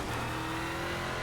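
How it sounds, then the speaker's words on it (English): A Euro NASCAR V8GP race car in the iRacing simulator engine-braking into a corner, its V8 droning in a steady, loud low hum with a constant tonal whine throughout. "relying on engine braking here."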